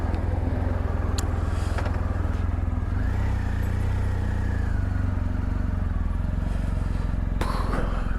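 A BMW GSA 1250 motorcycle is ridden through the Yorkshire Dales toward the village of Dent. Its engine gives a steady, loud low drone throughout, with wind rush, faint rattles and a few brief clatters over the top.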